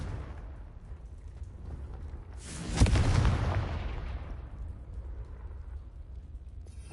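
A single booming spell blast from the Hogwarts Legacy video game erupts against a low rumbling background, a sharp burst followed by a slowly fading roar over a few seconds.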